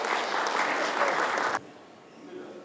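An audience applauds award recipients posing for photos at a regional construction association's annual general meeting. The full, even clapping holds loud for about a second and a half, then cuts off sharply into quiet room tone.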